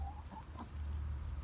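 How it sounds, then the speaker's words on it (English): Chickens cluck softly in a farmyard while pecking at peanuts, a few short clucks over a steady low rumble, fairly close and unhurried. "Come on, chickies, you guys missed out."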